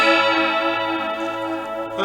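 Electric guitar played through an Electro-Harmonix Deluxe Electric Mistress flanger pedal rings out with a sustained, shimmering chord, its swirling comb-filtered sweep moving through the bright overtones, steady and fairly loud.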